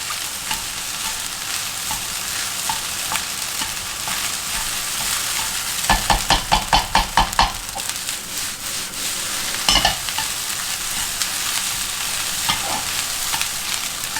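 Egg fried rice stir-fried over high heat, with a steady loud sizzle throughout and a burst of rapid rhythmic scraping and tossing strokes in the middle, then a few more scrapes near the end.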